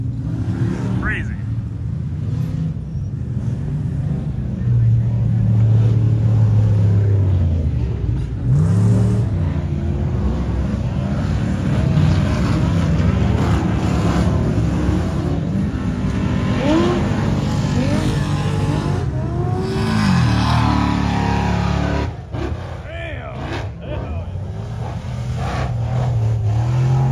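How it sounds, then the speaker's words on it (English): Offroad race trucks tear around a dirt bike track and dunes at a Midwest dirt event, engines roaring and revving loudly and continuously with gear changes and passing surges, while people talk nearby. "that truck sounds good."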